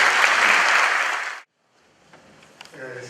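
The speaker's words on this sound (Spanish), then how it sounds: "Un aplauso para el doctor." Audience applause for a speaker at a philosophy lecture at a university, a dense, loud clatter of clapping that cuts off abruptly midway, leaving faint room noise and a few scattered sounds.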